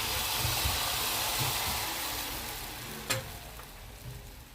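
Multi-millet chilla batter of jowar and nachni flour sizzling on a hot griddle wiped with oil, a steady close hiss that slowly fades, with a single light clink partway through.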